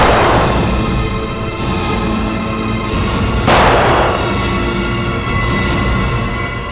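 Gunshots as a sound effect in a TV crime drama, a few loud booming reports ringing out over a dense, continuous rumbling bed, with the strongest blasts near the start, midway and just after.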